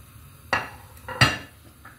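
Diced meat, 600 grams, is dropped into hot olive oil in a pan, giving two sharp metallic clatters and splashes close by, followed by a softer knock and a faint sizzle between them.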